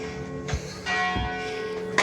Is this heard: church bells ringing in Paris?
yes